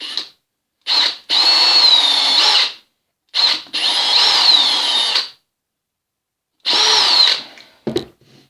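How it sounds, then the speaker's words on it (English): Power drill boring a pilot hole into a narrow 10mm strip of wood, whining in four separate high-pitched bursts with short pauses between, ending with a brief clunk. "You've got to drill a pilot hole, otherwise it will split the wood."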